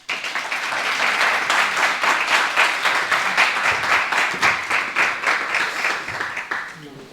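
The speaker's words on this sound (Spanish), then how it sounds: "Un aplauso." An audience gives a steady round of applause at a talk, rhythmic clapping that builds quickly, holds for several seconds and fades out at the end.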